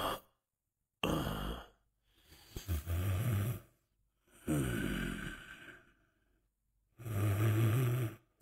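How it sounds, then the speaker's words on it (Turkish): A sleeping person snores close by, with four loud, rasping breaths in a slow, uneven rhythm and short silent gaps between them; no one speaks. "Horlap geçen."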